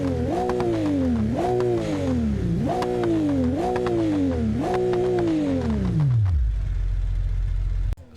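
A modded car engine in the BeamNG.drive driving game revs up through four or five gears in quick succession, each shift dropping the pitch, then winds down to a low idle rumble with a click at the end.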